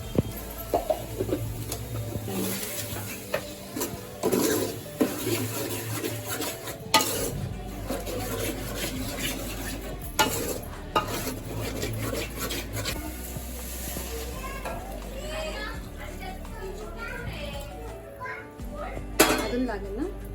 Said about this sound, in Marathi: आता आम्ही याच्यामध्ये वाटण टाकतोय. वाटण पण छान असं आपल्याला परतून घ्यायचंय.